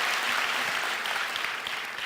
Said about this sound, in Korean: 자, 지금까지 간증해 주신 분들께 다시 한번 감사의 박수를 드리겠습니다.